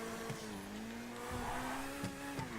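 A race car engine drones steadily in GTA Online, easing off and then picking up with faint tire noise, a constant mid-level whine with no talk over it.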